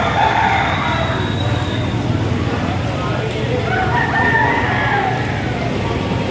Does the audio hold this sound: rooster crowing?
yes